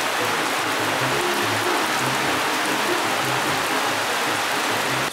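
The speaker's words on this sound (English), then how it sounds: "the rain has started." Steady afternoon tropical rainstorm falling by a pool in Costa Rica, a dense continuous hiss of rain on surfaces at constant loudness with no voices.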